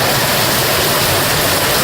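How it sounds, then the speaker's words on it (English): Water pours down and splashes beside a truck in an outdoor work area, making a loud, dense, continuous rushing hiss like a waterfall, steady from start to finish. "We're getting plenty of spray from the sides where it's pouring down."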